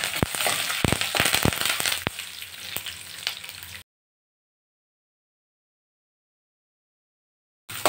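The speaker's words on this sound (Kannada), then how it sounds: "ಉದ್ದಿನಬೇಳೆ 1 ಸ್ಪೂನು, ಕಡಲೆಕಾಯಿ ಬೀಜ ಒಂದು ಸ್ವಲ್ಪ, ಇಷ್ಟನ್ನು ಹಾಕಿ ಫ್ರೈ ಮಾಡ್ಕೊಳ್ಳಿ" Urad dal, peanuts and curry leaves fry in hot oil with busy crackling and popping for about four seconds. The sound then cuts off into silence, and a short burst of frying returns at the very end.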